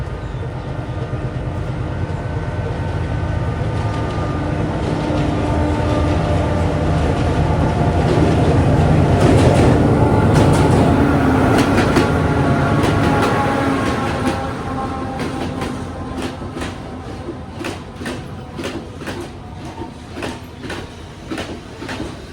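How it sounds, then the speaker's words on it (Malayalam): The Night Mail train from Colombo pulls into the station at Ella, Sri Lanka, with a loud rolling rumble, squealing and rattling carriages, and clattering wheels that slow and turn irregular as it comes to a halt. "അങ്ങനെ ഇതാ ട്രെയിൻ കടന്നു വരികയാണ്. നൈറ്റ് മെയിൽ കൊളംബോയിൽ നിന്ന് ഇന്നലെ രാത്രി പുറപ്പെട്ട വണ്ടിയാണിത്."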